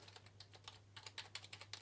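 Typing on a standard HP computer keyboard, a quick run of light, irregular key clicks and taps at close range over a steady low hum, with no voices.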